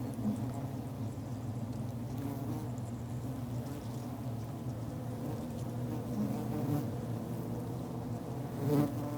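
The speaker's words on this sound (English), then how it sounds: "When they return, these forager bees brush off the pollen." Forager honey bees buzz in a steady, dense drone close by, many wings humming together without pause, swelling slightly near the end.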